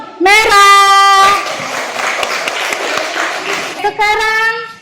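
A classroom of Indonesian children claps for a group for a few seconds. The applause is busy and scattered and falls between a teacher's talk before and after.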